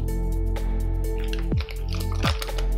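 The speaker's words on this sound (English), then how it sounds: "Now we're going to pour all the gravy over the rice that we made." Gravy poured over partly cooked rice for Afghani pulao, a wet, squishy pouring with drips and a couple of sloshing splashes, close and steady over a constant hum, with no talking.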